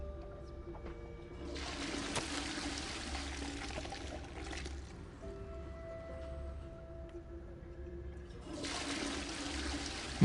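A toilet flushes in the Hogwarts Legacy video game: a rushing gush of water swells, fades into trickling, and surges again near the end, with faint game ambience beneath.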